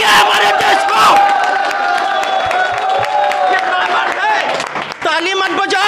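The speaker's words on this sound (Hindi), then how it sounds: "ताली मत बजाओ, नफरत करो।" An audience at a film screening claps and cheers, with a dense continuous roar of hands and voices and shouted whoops throughout, loud and close.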